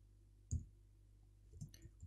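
Typing on a computer keyboard while coding, a few quiet, close key clicks, one sharper tap followed by a short cluster of soft taps.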